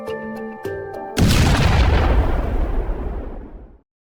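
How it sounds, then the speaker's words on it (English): A sudden loud explosion erupts after a few faint clicks and tones, its deep rumbling roar decaying over a couple of seconds into silence. "A bomb suddenly exploded."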